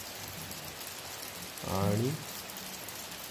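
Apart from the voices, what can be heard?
continuous rain falling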